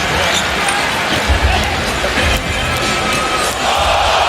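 A basketball arena crowd at the Finals roars with oohs and aahs over a Kyrie Irving crossover, a steady loud wash of voices that swells briefly, with a ball bouncing underneath.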